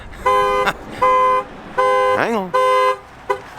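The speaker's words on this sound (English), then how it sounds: "That's an alarm system." Range Rover Sport HSE alarm sounding loudly up close, a repeating series of harsh horn-like tones in long pulses with short gaps, and a person speaking briefly over it.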